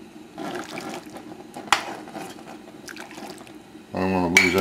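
Running water rinsing out a saucepan, a soft trickle and splash under a speaking voice, then a louder gush of water near the end.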